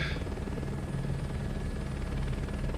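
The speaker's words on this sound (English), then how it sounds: "Helicopter does it quite nicely." Helicopter in Microsoft Flight Simulator 2024 climbing away from a helipad, a steady rotor and turbine drone that stays loud and even throughout.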